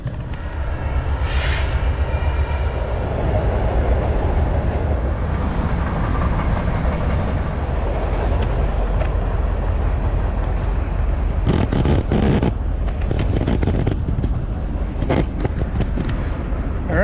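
A long BNSF freight train rolls past close by in open, treeless desert country, a loud continuous rumble of wheels and wagons with sharper clanking bursts toward the end.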